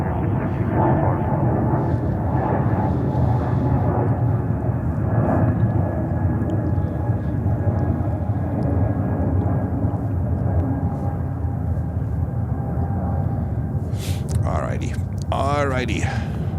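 An American Airlines jet on takeoff roll from runway 22 right at JFK in New York, a steady loud roar of engines held throughout at a distance, with a rising whine and brief sweeping tones near the end.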